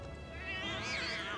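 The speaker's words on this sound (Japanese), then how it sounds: "猫いっぱいおるやん。" Cats meow in Final Fantasy VII Remake, a drawn-out, wavering cry close by and fairly quiet, with a sharp noise at the end.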